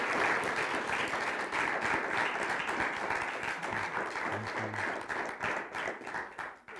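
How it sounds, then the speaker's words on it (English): Church congregation claps for two pastors, a full round of hand claps that swells early, holds, then thins into scattered claps and fades toward the end. "Would you give Pastor Brooke, Pastor Jim, a hand clap and an applause?"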